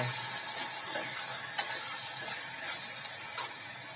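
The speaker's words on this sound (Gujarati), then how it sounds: "ચાલો હવે તેને બરાબર મિક્સ કરી લઈએ." Red chili powder and garam masala stirred into a hot pan for vegetable khichdi: a soft, continuous sizzle with a few sharp spoon scrapes against the pan, close and fairly quiet.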